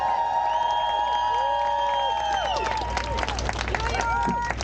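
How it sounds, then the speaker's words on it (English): A rally crowd in New York City applauds and cheers in support of Ukraine, with steady, loud clapping and shouting throughout, and high whistle-like tones rising and falling over the din. "Let's give a round of applause to New York City."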